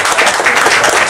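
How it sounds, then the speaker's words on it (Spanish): A short burst of dense, steady applause from an audience at a job fair inauguration in Acapulco honoring beneficiaries, loud and close with no voices over it. "Fuerte el aplauso, por favor"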